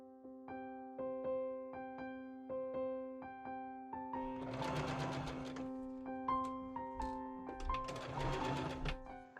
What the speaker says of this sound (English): I machine sew the back lining and structure layers together as well.